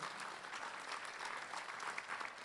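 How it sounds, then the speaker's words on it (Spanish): Church congregation applauding in a sanctuary, a steady dense wash of many hands clapping together at an even level throughout, with no talk over it. "denle un aplauso fuerte al Señor"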